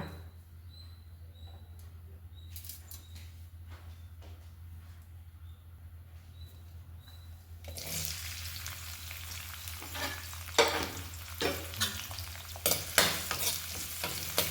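Onions sizzle in one to two spoons of hot oil for a chicken gravy, starting quiet then bursting into a steady broadband fry around the midpoint, with intermittent scraping stirs and clinks of a spoon near the pan; no talking.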